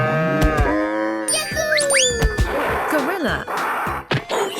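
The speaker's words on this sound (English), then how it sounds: "Cow." Cow mooing in a 3D animal slide video game: loud, close lowing calls with a cartoonish boing and cowbell-like game effects layered over it.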